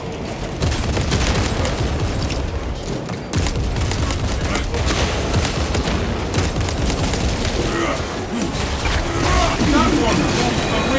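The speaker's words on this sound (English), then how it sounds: "Using crack grenade." Loud, dense blasts and crackling gunfire fill a Warhammer 40k Space Marine 2 battle where a krak grenade goes off, a sustained barrage of booms and rattling shots with voices underneath.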